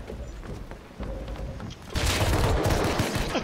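Gunfire in a video game aimed at a railing, a rapid burst of shots that grows louder and denser partway through, with the last shots continuing as sustained fire.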